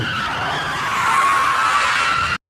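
A car skids to a stop, a loud continuous tyre scrub and squeal that swells midway, then cuts off abruptly into silence.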